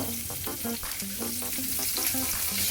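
Vegetables fry in the pan used for the salmon, a close, steady sizzle with a faint tonal pulsing sound running underneath.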